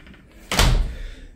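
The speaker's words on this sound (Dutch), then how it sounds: "Deur dicht." A door closes with a single loud, heavy thud close by, followed by a short fading rumble, with no voices.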